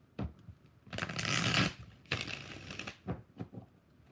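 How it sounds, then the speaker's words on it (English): Tarot cards being shuffled by hand, two long riffling bursts of papery flutter with softer taps and card handling between them, close and fairly quiet. "Two more shuffles."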